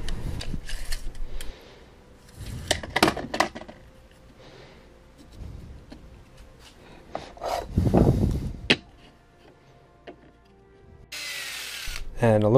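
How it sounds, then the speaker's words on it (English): Wood is drilled while a kayak trolley is built from fence pipes and timber, with short bursts of drilling and rough grinding scrapes separated by pauses and handling noise, ending in a sharp high whir. "and a little bit of drilling"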